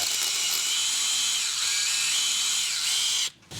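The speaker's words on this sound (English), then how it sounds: "now let's use the crappy drill to get it to the final size for tapping" A high-pitched electric drill whirs continuously and loudly for a few seconds while sizing a hole for tapping on a 1986 Nissan Pulsar engine, then abruptly stops and briefly restarts.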